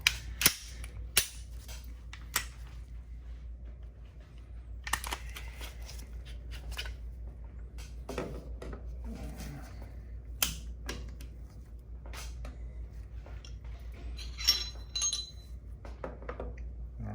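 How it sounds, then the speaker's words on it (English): Glock pistol being cleared before disassembly, sharp metallic clicks and clacks of the slide and parts handled close up, scattered separate snaps over a low steady hum. "first we're going to clear the gun before we take it apart, visually observe the chamber"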